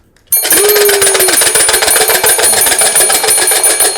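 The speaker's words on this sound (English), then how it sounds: "So we're gonna ring the bell for 5 seconds." A bell rings loudly and continuously at close range for about four seconds, bright and steady, during a group game at a workplace session.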